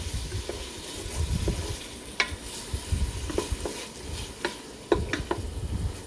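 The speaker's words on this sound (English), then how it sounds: "you can hear that very satisfying sizzle" Chicken sizzling in a pot in a Ninja Foodi, a steady crackling hiss broken by scraping and knocks of a utensil stirring against the metal.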